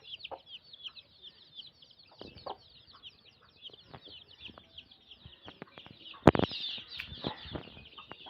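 Soft clucking and high peeping of hens and chicks goes on throughout, with a sudden burst of wing flapping near the end.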